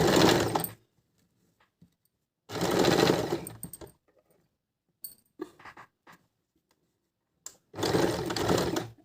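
A sewing machine stitches a woolen salwar, running in three loud sustained bursts with quiet pauses and a few small clicks between them as the fabric is repositioned for double stitching at the corners.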